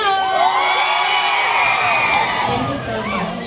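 A crowd at a gay queen beauty pageant in a Marikina barangay cheers and shouts, with high-pitched screams and whoops rising over a loud, steady roar that lasts throughout.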